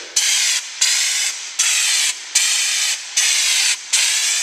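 An aerosol can of knockdown texture sprays onto a drywall repair in six regular hissing bursts, each about half a second long with short gaps between them, close and fairly loud.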